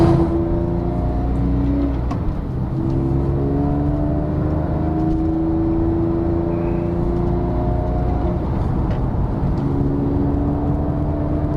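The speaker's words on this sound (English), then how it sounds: "we're driving through these little roads in our 2006 Carrera 4S." A 2006 Porsche 911 Carrera 4S drives along winding country roads, its engine note steady and close with some rise and fall in revs, heard continuously from inside the car with no talking.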